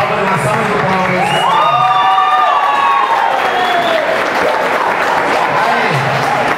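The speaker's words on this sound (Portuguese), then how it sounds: "Eu gostaria que vocês fizessem uma palma na sala de palmas." Audience applause at a youth 60 kg Muay Thai Grand Prix semifinal, a steady wash of clapping and crowd noise throughout, with a voice talking over it and a brief whistle-like tone.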